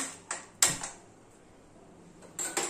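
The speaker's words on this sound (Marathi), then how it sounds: "फ्रेंड्स, सर्वप्रथम मी इथे गॅस ऑन करते" A gas stove in a home kitchen being switched on before cooking Kolhapuri egg curry, a few faint clicks of the knob and igniter with short quiet gaps between them.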